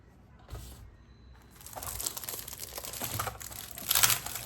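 Cricut Smart Vinyl packaging being opened up close, crinkly plastic crackles and rustles that start faintly, then grow into dense crumpling with a sharp burst near the end, no talking.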